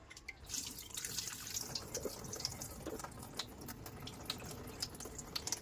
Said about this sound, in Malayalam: ഇനി ഞാനൊന്ന് കഴുകി എടുക്കാനായിട്ട് പോവാണ്